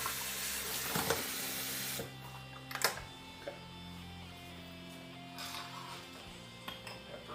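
Water runs from a kitchen tap onto something being rinsed, a brief hissy rush at the start followed by quieter clatter and dripping with a faint hum in a kitchen.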